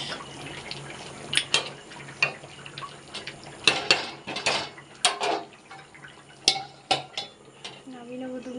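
Metal pot and utensils clinking and scraping as curry is stirred and taken off a home stove, irregular close clatters and taps with faint kitchen background noise.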